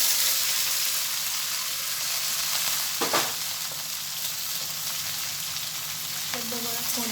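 Boiled ivy gourd pieces sizzle steadily in a hot pan for a coconut ivy gourd fry, with a constant close frying hiss and a few soft clinks of stirring.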